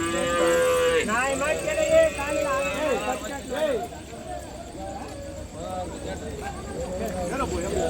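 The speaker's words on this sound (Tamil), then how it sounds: "இன்னைக்கு கொஞ்சம் மாடு கொஞ்சம் நிறையா வந்திருக்கு" Cattle moo at the Vaniyambadi cattle market, with one long, loud, close moo followed by more lowing amid crowd babble and someone talking.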